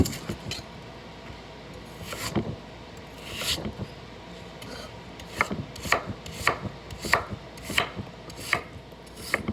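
A knife chops through potatoes on a cutting board in repeated sharp strokes, sparse at first, then a quicker steady rhythm, close and fairly loud.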